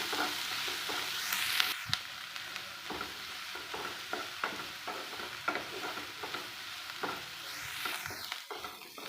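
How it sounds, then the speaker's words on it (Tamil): Onions sauté in a pan with salt and spice powder: a gentle sizzle beneath repeated spatula scrapes and taps against the pan, close and fairly quiet, with no speech. "உப்பு ஆட் பண்ணிட்டு வெங்காயம் நல்லா வணங்கட்டும்"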